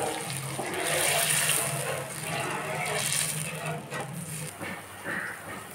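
Water poured into a pan of frying spices for hilsa fish, rinsed in from the spice bowl, giving a steady rushing, hissing wash of liquid that runs close and fairly loud for several seconds with no talk.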